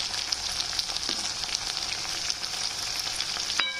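Bell peppers (capsicum) fry in a pan with a steady close crackling sizzle, occasional faint stirring clicks, and a sharper knock just before the end, no speech.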